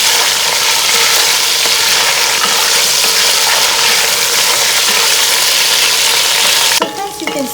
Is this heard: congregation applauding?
no